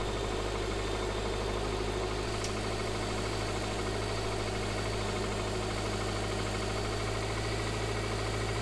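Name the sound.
car engine cranking over, not starting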